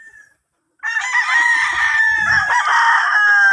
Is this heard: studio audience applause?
no